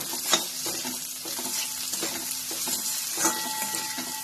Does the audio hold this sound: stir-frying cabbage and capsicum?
yes